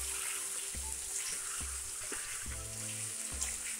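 Chicken pieces simmer in gravy in a pan for a Karnataka-style chicken fry, giving off a faint, soft bubbling sizzle broken by a few low, regularly spaced thumps and no speech.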